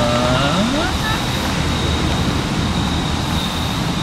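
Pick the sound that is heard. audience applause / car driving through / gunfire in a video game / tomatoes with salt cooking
car driving through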